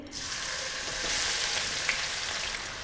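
Oil sizzles and crackles steadily as chopped onions hit the pan, a continuous frying hiss up close with no voices.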